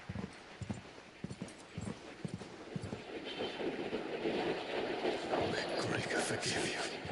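Horse hooves clop rhythmically in Final Fantasy XVI, fairly faint, under a steady wash of ambient noise and occasional voices.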